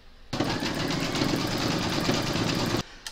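A home embroidery machine stitches a bookmark design, a steady, fast mechanical whirring and needle clatter that starts suddenly, runs evenly for about two and a half seconds, then stops.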